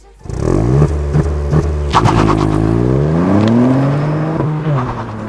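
A 2019 Ford Fiesta ST launches with launch control from a held rev limit, its engine snarling loudly and climbing through the revs with a short shift break, close and dominant with no voices.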